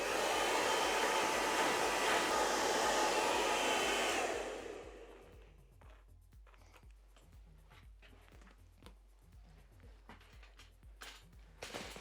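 A hair dryer blows loud and steady on hair for about four seconds, then cuts off, leaving faint handling and light rustles.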